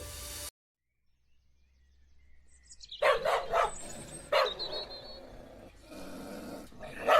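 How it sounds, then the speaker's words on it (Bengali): Several dogs bark as a sound effect in a Bengali audio drama, loud sharp barks in bursts after a short silence, over a soft background ambience. "কুকুরগুলোর ঘেউ ঘেউ শব্দ শুনতে শুনতে"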